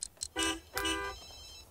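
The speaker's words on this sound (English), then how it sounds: "My phone's ringing." A mobile phone in The Sims 3 rings with two short chirps followed by two longer bright electronic trills, fairly close and clear, fading into quiet game ambience.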